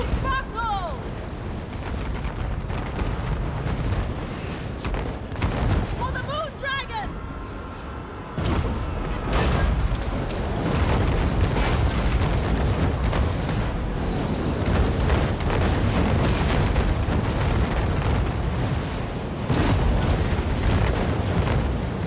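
A cannon battery firing in Total War: Warhammer III during a Grand Cathay battle, with heavy booming thuds repeating over a constant rumble of battle noise and someone talking over it.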